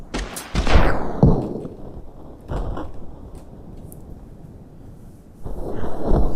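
Gunfire in a Totally Accurate Battle Simulator battle: a few sharp shots and bursts early on, then quieter clatter and mechanical creaks, with another louder volley near the end.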